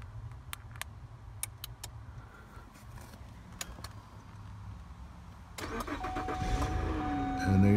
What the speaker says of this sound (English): And there you go, the car starts.